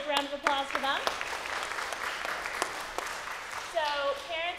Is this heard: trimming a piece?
no